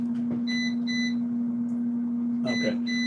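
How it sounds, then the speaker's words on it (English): An air fryer's preheat alarm sounds two short electronic beeps, pauses, then beeps twice more. The tones are clear and moderately loud over a steady low appliance hum. "That's the preheated alarm that's going off."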